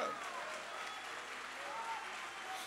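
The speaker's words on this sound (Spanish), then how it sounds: "Dale ese aplauso al Señor." Church congregation applauding during a Sunday sermon, a soft, steady wash of distant clapping with faint crowd noise and a voice briefly audible over it.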